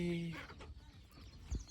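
Chickens and chicks clucking nearby in a brief, busy farmyard scene on a farm, with soft background noise and a muffled voice underneath.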